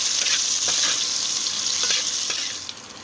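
Potatoes hit hot oil in a pan for a hilsa fish curry with nigella seeds and green chillies, giving a loud, close, hissing sizzle with a few stirring clicks that eases off near the end.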